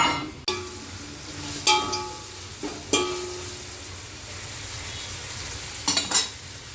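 Onions, potato, carrot and capsicum fry in a pan with a steady soft sizzle, punctuated by a few sharp clinks and scrapes of a spoon stirring the vegetables against the metal.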